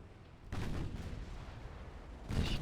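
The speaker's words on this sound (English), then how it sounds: "There's your torpedo run." Naval torpedo attack run in Ultimate Admiral: Dreadnoughts, heard as a dense, rumbling wall of distant gunfire and artillery booms that swells after a quiet start and surges again near the end, with no talk.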